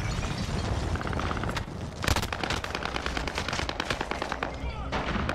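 Rapid, loud video game gunfire in Call of Duty Warzone's Fortune's Keep, with bursts of automatic shots and sharp cracks over a dense, noisy combat background.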